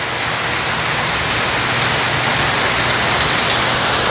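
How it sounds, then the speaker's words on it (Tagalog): Heavy rain pours down onto a veranda in a dense, unbroken hiss, loud and close, with no voices over it. "Ayan na ang ulan. Ayan na, bumuhos na nga."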